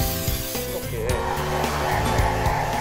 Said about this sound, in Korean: 일단 드라이기를 사용해 건조시키고요